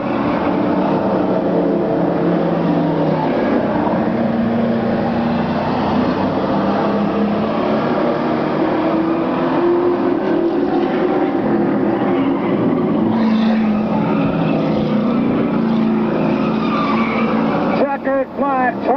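Race cars on the final lap of a 1996 race roar past loudly and continuously, with engine drone and tire noise filling the track while a commentator talks over them.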